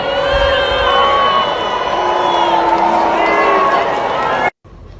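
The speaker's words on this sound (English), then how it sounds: "Now we're hearing some booing." A large outdoor crowd at a Duke University commencement keeps up a loud, sustained roar of voices with long drawn-out shouts that could be booing, continuing without a break before cutting off abruptly near the end.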